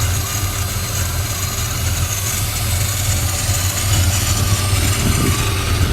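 Engine of a 1984 Chevrolet Monte Carlo SS idles steadily close by, a continuous low rumble with even loudness throughout and no speech.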